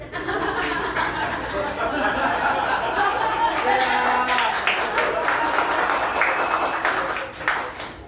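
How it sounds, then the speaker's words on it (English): Audience applause at a stand-up comedy show, a steady wash of clapping mixed with chuckles and laughter that runs the full length, thinning slightly near the end. "I feel that was almost a sarcastic applause"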